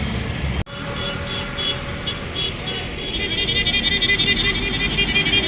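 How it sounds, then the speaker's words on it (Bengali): Steady road traffic rumbles through a foggy early morning as buses begin running on the road, with a brief sharp knock near the start and engine and tyre noise building toward the end. "এদিক দিয়ে সব বাস চলা শুরু হয়েছে"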